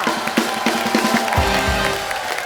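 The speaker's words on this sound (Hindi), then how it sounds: "So guys, एक बार ब्रावो और रवीना के लिए जोरदार तालियां।" A comedy show's studio audience applauds and cheers for a couple, a lively burst of clapping and crowd noise with a low thump partway through.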